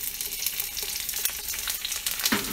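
Onions and garlic hitting hot oil on a flat top griddle, an intense close sizzle that crackles steadily throughout a brief moment.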